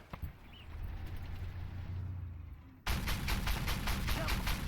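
A tank shell ricochet in Armored Warfare on an XM800T, a sudden sharp metallic impact that cuts in loudly partway through, followed by a harsh sustained ringing clatter over low engine rumble.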